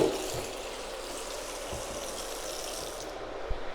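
A bathroom tap on a water pump runs in a steady broadband rush, close and continuous, with a few faint knocks underneath and the flow cutting off near the end; no voices.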